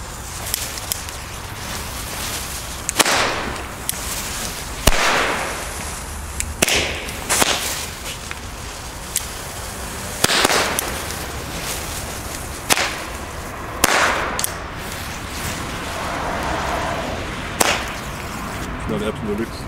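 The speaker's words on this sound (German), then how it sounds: "Jetzt gibt es die Mini-Knaller." Weco mini firecrackers from a budget Lidl fireworks assortment go off outdoors in a string of sharp cracking bangs at irregular intervals, some bursts in quick pairs, over a noisy background.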